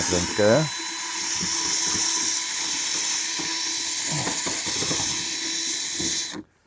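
A high-pitched drill whines steadily for several seconds while widening holes in plastic with an 8 mm bit, a brief voice heard at the start, before the sound cuts off abruptly.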